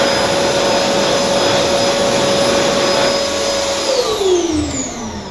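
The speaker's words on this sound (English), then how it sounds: "we have once again, no surprises, black World Dryer Air Force." A black World Dryer Air Force hand dryer in an accessible restroom on an Auckland trip blasts with a loud, steady roaring whine, then its pitch slides downward as it winds down near the end.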